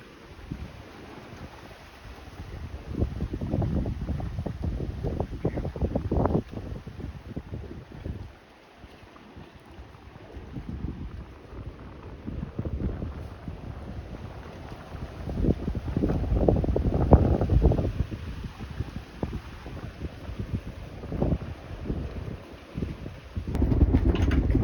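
Strong wind buffets a boat at anchor in the Bahamas, with a steady roar and microphone rumble that swells in gusts and eases briefly in the middle. Water and rigging noise blend in, and no one talks.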